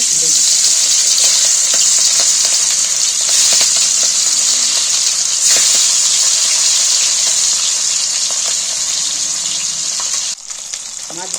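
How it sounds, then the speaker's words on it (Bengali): Hilsa fish frying in hot mustard oil in a kadai, a loud, steady sizzle with crackling bursts that runs nearly unbroken before dropping slightly near the end. "ইলিশ মাছ কড়া করে ভাজে নিই হালকা করে"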